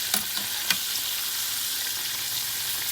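Slices of green tomato fry in a pan, Southern style, with a dense, even sizzle close by and a couple of brief taps early on, no talking.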